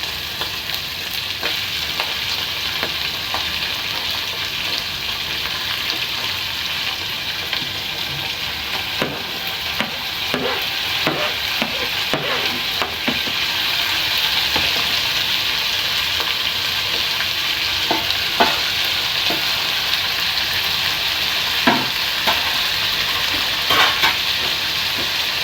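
Onions frying in a pan for a long stretch, a dense continuous sizzle with scattered scraping stirs and clicks, close and steady, no talking.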